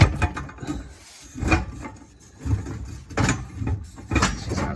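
Fox Body Mustang exhaust system, bolts removed, being slid forward beneath the car, giving rough metallic scraping and rubbing in several uneven pushes, close and fairly loud.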